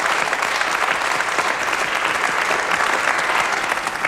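A television studio audience claps loudly and continuously for Philippe Guérin, a dense, even burst of applause filling the whole moment with no talk over it.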